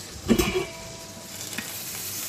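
Butter sizzles in a frying pan on a stove over medium heat, with a short burst of crackling and stirring, then a quieter hiss continuing alone.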